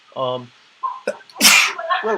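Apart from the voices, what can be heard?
a person sneezing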